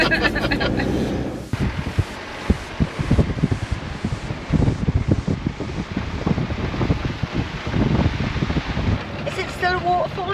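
Strong wind gusts buffet the microphone at Cabril Gorge in Portugal, a broad, continuous roar with surging low rumbles and brief pauses, loud and close throughout, with a short bit of voice at the end.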